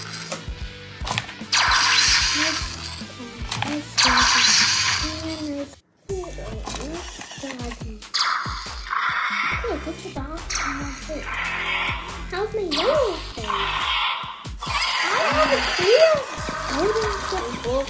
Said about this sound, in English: When you hold him upright and move him up and down, he'll start shrieking and flapping his wings.